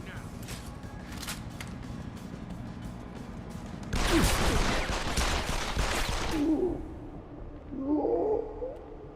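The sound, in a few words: gunfire in the video game Deus Ex: Human Revolution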